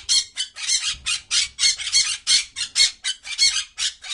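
A cartoon parrot squawks in distress with a rapid run of about a dozen shrill, harsh cries in a steady pulsing rhythm, loud and close, with no talk.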